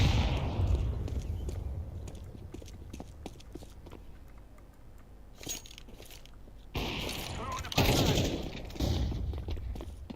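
Gunfire in a video game, scattered sharp shots and short bursts at moderate loudness over a noisy background, with a person talking intermittently.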